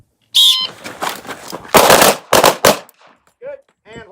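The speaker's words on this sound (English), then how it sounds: "Gonna draw and shoot one." Handgun shots fired during a 1970s-style shooting drill, several sharp loud reports in quick succession, with an instructor's voice briefly speaking between shots.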